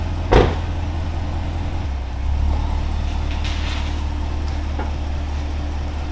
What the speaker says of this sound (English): so we're gonna back the car up